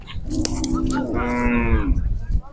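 A cow at the Tungal cattle fair in Karnataka gives one drawn-out, close moo lasting over a second, over a steady murmur of the busy fairground.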